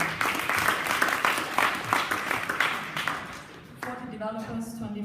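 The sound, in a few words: audience applause for hackathon team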